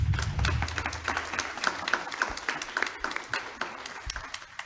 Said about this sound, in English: Will you guys please join me in giving these two wonderful ladies a round of applause?